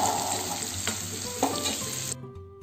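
Chopped potato hitting a hot pan of frying onion for savoury semolina, with a loud, steady sizzle and a few stirring scrapes that cut off abruptly to near quiet.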